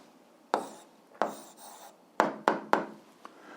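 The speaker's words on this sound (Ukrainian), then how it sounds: "Пишемо відповідь." Pen writing down an answer: several sharp scratchy strokes and taps, faint and close, spaced irregularly with short pauses, no talking.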